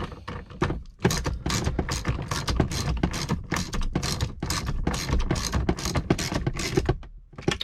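Top screws are driven into the instrument cluster of a 2004-2015 Nissan Titan or Armada with a ratcheting tool, producing rapid close clicking bursts with short pauses between them and no talk.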